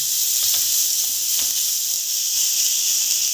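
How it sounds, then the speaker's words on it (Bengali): Onions sizzling in hot oil in a pan as they cook toward a reddish brown, a continuous even hiss with a few faint soft knocks and no voices. "পেঁয়াজটা একটু লাল লাল করে ভাজা হবে।"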